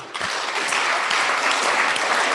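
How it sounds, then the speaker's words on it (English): An audience applauds at the closing ceremony of a triennial ISTRC symposium in Nairobi, dense steady clapping from many hands filling the room, loud and continuous with no voices over it. "Please, can we give a Kenya clap to Nancy?"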